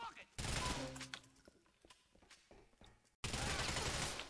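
Bursts of gunfire in Grand Theft Auto IV, rapid automatic shots near the start and a fresh loud volley at the end, with someone talking in between.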